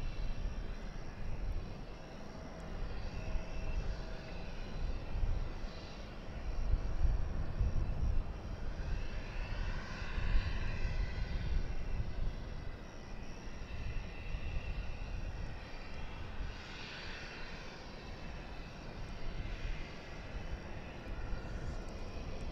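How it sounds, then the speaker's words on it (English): An American Airlines Dreamliner arriving from Santiago and landing on the east side of DFW airport gives a steady, distant jet roar that swells and fades gently over about twenty seconds, with no talking. "That was American Flight 940. A Dreamliner coming in from Santiago de Chile."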